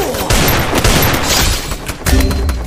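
Heavy, continuous gunfire in a Free Fire battle royale match, loud and dense with overlapping shots and booms throughout.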